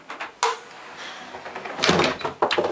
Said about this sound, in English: this is how I close the door